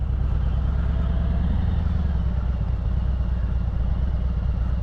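A motorcycle in second gear eases around a turn, its engine a continuous low, throbbing rumble with steady loudness and close-up mechanical clatter, no voices over it.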